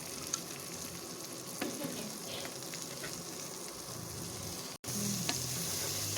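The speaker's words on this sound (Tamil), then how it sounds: "இப்போ இதை நம்ம நல்லா பிரட்டி விடுவோம்." Dried fish (karuvadu) fries in a pan with a steady, close hiss and crackle while it is stirred. A brief scrape sounds partway through, then a short gap before the sizzle returns a little louder.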